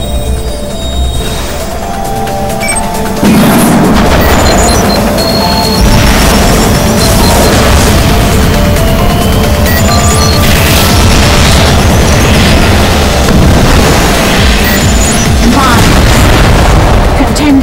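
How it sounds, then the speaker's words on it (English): Rocket explosions in Wipeout HD Fury on the Ubermall Reverse track in Eliminator mode: heavy booms and crashes pile up over a constant loud racing soundtrack and engine roar, with an announcer's voice cutting in now and then. "Rockets."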